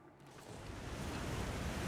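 A roaring waterfall in a video game's Mountain Town area, a broad rushing wash of water that swells from quieter to loud and steady, with no voices over it.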